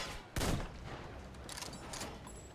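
Enemy gunfire in the video game Metro Exodus: one sharp, loud shot-like blast near the start, followed by a steady, rumbling combat ambience with no speech.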